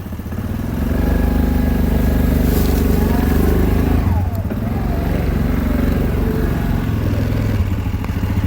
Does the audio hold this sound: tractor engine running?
yes